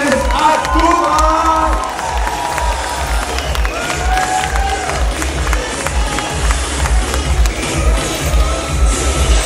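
At a school graduation ball, a crowd cheers and applauds a dancing couple over loud music with a thumping, regular bass beat, the clapping and shouts blending into a continuous roar.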